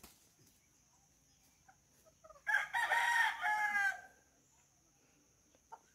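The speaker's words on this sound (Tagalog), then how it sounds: "nagpapatakain siya ng kanyang mga alagang manok" A rooster crows loudly once, a long drawn-out call standing out against a quiet farmyard of native chickens being fed, with faint scattered clucks and rustling before and after.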